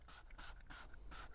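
P&S Terminator stain cleaner sprays in short hissing bursts onto stained van seats, four quick close pumps from a trigger bottle with brief pauses between them and no talk.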